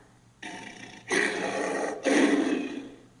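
Deep, rough lion growls in three bursts, each rising and sustained, fairly close and loud with no talking.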